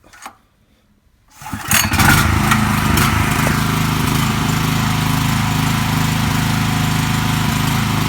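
A newly bought power generator, left standing for a while, sits quiet for a moment, then catches and starts with a rising roar. It settles into a loud, steady running drone, heard close and alone with no talk.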